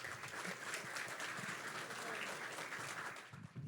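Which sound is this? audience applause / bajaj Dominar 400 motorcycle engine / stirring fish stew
audience applause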